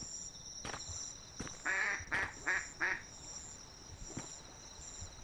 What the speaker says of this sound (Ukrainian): Це качка. Ми побачили качку.